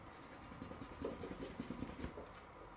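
A soft eraser rubbing across a pencil drawing of a mouth on paper, making a faint, close, rhythmic scrubbing of quick back-and-forth strokes.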